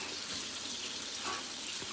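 Water pours into a pan to make gravy, a steady splashing, close and continuous stream with no voices.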